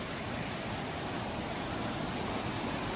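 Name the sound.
waterfalls at Cascade Falls, Pembroke, Virginia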